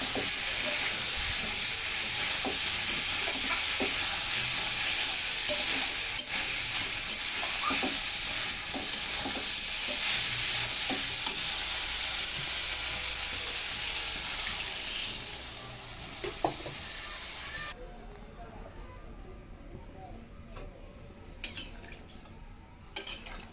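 Soybean chunks and potatoes for a curry sauté in hot oil, giving a loud, continuous close sizzle with stirring scrapes for most of the time before it drops to a quieter, softer bubbling.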